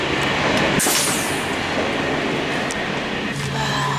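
Steady rumbling roar inside a moving train carriage, with rattling, faint wheel squeals and a constant wash of noise.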